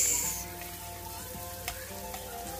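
Onion, garlic, ginger and tomato sauté in a pan for a coconut-milk fish dish, producing a soft, continuous sizzle with faint crackles and an occasional stirring tap.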